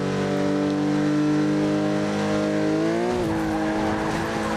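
A powerful race car engine in Ridge Racer Unbounded revs loud and steady, its pitch holding high before dipping and climbing again near the end, with faint tire noise beneath and no talking.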